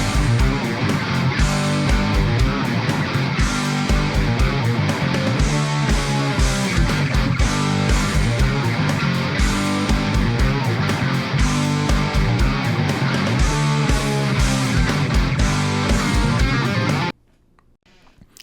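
An old song from high school recast as a Pico-8 chiptune, with dense, steady, looping square-wave melody and a driving beat over a continuous bed, playing loud throughout before cutting off abruptly near the end.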